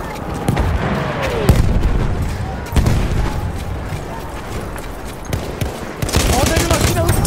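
Rapid bursts of machine-gun fire from a Perino Model 1908 light machine gun in a World War I shooter set at Achi Baba, mixed with explosions and loud battle noise, with voices shouting under the gunfire.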